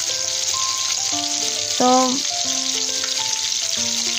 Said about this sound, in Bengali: এখন এদিকে আমার মাছগুলো ফ্রাই হয়ে যাচ্ছে